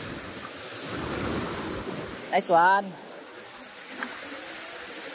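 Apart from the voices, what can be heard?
big waves hitting a fishing boat at sea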